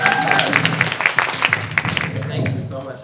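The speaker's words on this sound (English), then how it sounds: "Another round of applause, please." Applause fills a performing arts showcase hall, a brief burst of many hands clapping at moderate loudness that tapers near the end, with some voices mixed in.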